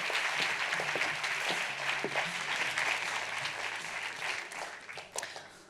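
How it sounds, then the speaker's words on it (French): A conference audience greets a speaker with sustained, dense applause that stays loud for several seconds, then gradually thins and fades. "Merci de faire un tonnerre d'applaudissements pour Léa Salamé."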